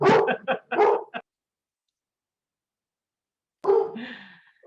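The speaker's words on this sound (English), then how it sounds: "and there goes the dog" A dog barks in a quick burst of several sharp barks, fairly close and moderately loud, then after a pause a whining yelp follows.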